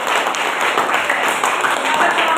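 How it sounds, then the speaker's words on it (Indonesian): A classroom audience applauds after a group presentation, a dense, even wash of many hands clapping at close range, sustained without a break. "Oke, berikan tepuk tangan."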